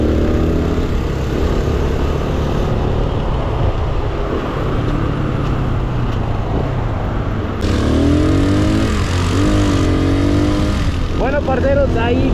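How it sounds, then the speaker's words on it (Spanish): Arizona 200 and TTDS 200 motorcycles race flat out down a straight, their engines droning loud and steady with a rising whine near the end, while people talk over the noise. "Las motos llegaron a 120 ahí en recta"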